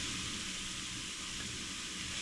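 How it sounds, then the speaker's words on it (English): Garlic sizzling in oil in a pan, cooked for shrimp pad thai, a steady close hiss of frying with faint crackle that runs unbroken and fairly quiet throughout. "You can just put the garlic right in."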